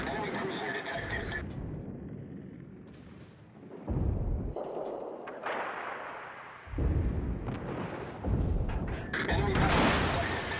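Heavy naval gunfire from the destroyer Somers in a video game comes in repeated loud, booming bursts with rumbling tails, mixed with other battle sounds and spoken radio chatter.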